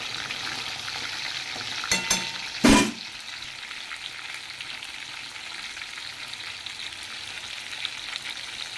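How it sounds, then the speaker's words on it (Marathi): Fish sizzles in a pan with a steady crackle, broken by a couple of sharp scraping bursts as it is pressed and turned early on. "अशी दाबून दाबून फ्राय करायचे"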